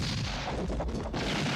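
Gunshots from the Western film Once Upon a Time in the West boom faintly through a wash of noisy background sound, with a couple of distinct sharp reports in quick succession.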